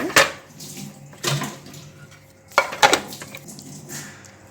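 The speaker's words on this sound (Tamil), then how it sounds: "இதை வந்து ஒரு அடி அடிச்சுட்டு நம்ம மறுபடியும் இதில் ஊற்றி வைக்கணுங்க" Homemade vanilla ice cream mixture is beaten in a container, giving irregular clattering knocks and scraping strokes in several loud bursts close by. No speech is heard.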